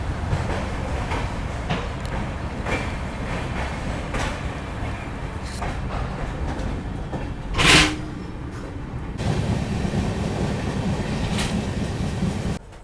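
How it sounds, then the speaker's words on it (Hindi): The Shatabdi Express pulls out of Kathgodam railway station with a continuous rumble, rhythmic wheel clatter and a brief sharp squeal midway, loud and close, with no talking. "एक्चुअल टाइमिंग दोपहर में 3:10 पर हमारी ट्रेन निकल चुकी है काठगोदाम रेलवे स्टेशन के प्लेटफॉर्म नंबर 1 से"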